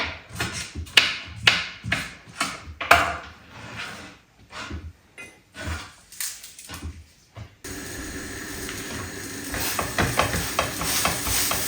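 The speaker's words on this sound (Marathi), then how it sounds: "थोडंसं कमी ऑइल टाकून ना छान असं क्रिस्पी बनवून घ्यायचं" Food frying crisp in a small amount of oil in a home kitchen, with repeated scraping and stirring taps in the first half, then a steady, louder sizzle filling the rest.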